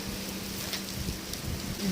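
Steady rain falls outdoors under a dark, fully clouded sky, a continuous close hiss of drops with no talking.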